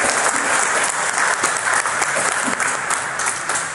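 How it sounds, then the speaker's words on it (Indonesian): Audience clapping at a corporate leadership talk, a dense, steady burst of applause from a seated crowd, loud and sustained throughout without any speech over it. "kita beri tepuk tangan"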